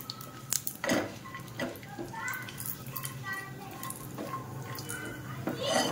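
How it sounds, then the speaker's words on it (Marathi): Pistachios being lightly roasted in a pan for a chocolate sweet, with repeated clinks and scrapes of a utensil against the pan, someone talking over the cooking throughout. "हलकसं भाजायचंय पिस्त्याला पण, थोडंसं"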